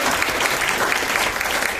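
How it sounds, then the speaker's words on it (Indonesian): A seminar audience gives a brief burst of brisk, continuous clapping that stays at full strength throughout. "Yang semangat dong, tepuk tangan dong buat Pak Tony dan"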